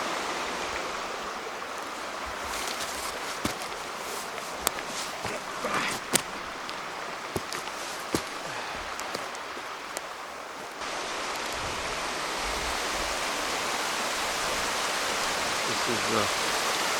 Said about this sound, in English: Let's go keep going along this creek.